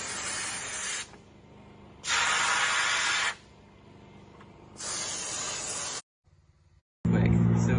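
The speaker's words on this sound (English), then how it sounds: "how great this Optima steamer is" An Optima steamer releasing steam in loud, close hissing bursts, each lasting one to two seconds, separated by quieter stretches and ending abruptly.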